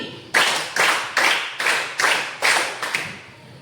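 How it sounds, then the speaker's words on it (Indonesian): A group in a coaching and academic supervision session claps together on cue, about seven crisp, closely spaced claps in a steady rhythm, near and loud in a room, with no speech. "Tepuk 3 2 kali."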